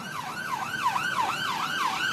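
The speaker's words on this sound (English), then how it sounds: "I've just let that siren go by, Dermot." An emergency siren wails in steady up-and-down cycles as it passes along a street, moderately distant and fairly faint over traffic hum.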